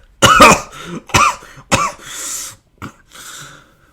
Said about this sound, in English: began coughing violently until blood had spilled from his mouth